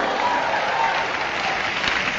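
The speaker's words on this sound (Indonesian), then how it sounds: "Bersorak-sorai, tepuk tangan dulu." Audience at a church leadership training session bursts into dense, continuous applause and cheering, loud and sustained throughout.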